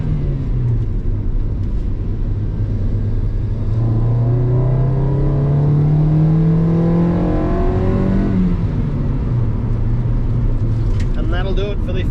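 A Honda EK Civic with a naturally aspirated D16 engine on its first test drive revs up steadily through a gear, then drops and settles, with a loud continuous engine drone heard from inside the car.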